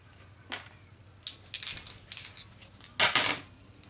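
A pair of dice clatters across a table during a Pathfinder tabletop card game, giving a few short rattling bursts of hard knocks close by with no voices.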